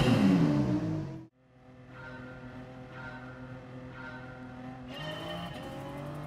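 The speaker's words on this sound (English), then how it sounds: "And listen to that blow-off valve." Gr.3 race car engine in GT Sport, a steady near engine drone after a sharp cut-off, with a short hiss-like blow-off release at the lift and the note rising again toward the end.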